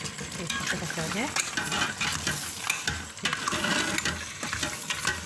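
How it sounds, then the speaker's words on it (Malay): Mutton pieces with spices are stirred in a pressure cooker, a steady sizzling fry with continuous scraping and stirring strokes, close and fairly loud, with some faint voice in the background. "kita kacau dia"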